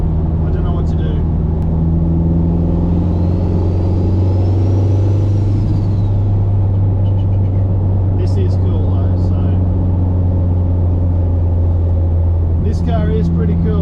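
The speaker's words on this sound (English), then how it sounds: "Turbo sounds awesome though" A neglected Mitsubishi Evolution IV with a 4G63 turbo engine and a gearbox leaking onto the exhaust runs at a steady deep idle, a rising turbo whine appearing midway, with short bursts of talk.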